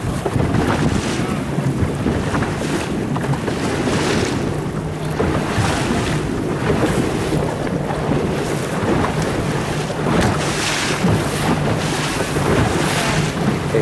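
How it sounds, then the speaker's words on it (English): Sailboat tacking through wind and waves, with a constant roar of wind buffeting the microphone over the wash of water, loud and unbroken. "here goes his tack again"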